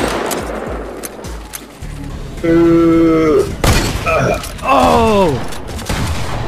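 Fortnite gunfire crackles in bursts of shots mixed with game effects and sliding tones, with a player's voice calling out over it.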